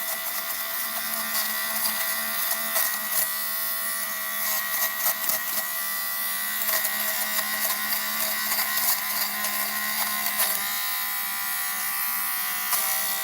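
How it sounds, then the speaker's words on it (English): An electric lint shaver run over a white Jordan 4 sneaker, a continuous close, high-pitched motor whine with steady buzzing and small scratchy variations as the blades pass the material, alone without talk. "take the lint shaver"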